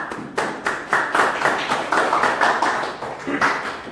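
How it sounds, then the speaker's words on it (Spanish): Church congregation applauding, a short run of steady, fairly sparse claps close by in an even rhythm for a few seconds. "Bien, un aplauso para el hermano."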